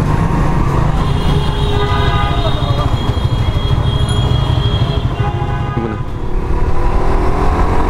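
Suzuki GSX-R 150 motorcycles ride along a city road in the morning, a steady loud rumble of engines and road noise filling the whole stretch, with traffic mixed in.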